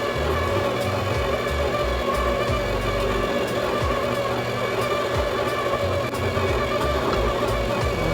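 Electric mixer blending flour into cake batter, a steady dense motor whir that runs continuously and loudly with no talking.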